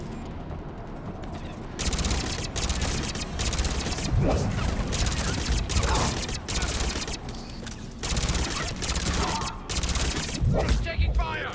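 Gunfire in the video game Mass Effect 3 during a battle on Tuchanka, dense overlapping bursts of weapon fire and impacts in repeated waves, with voices shouting under the shooting.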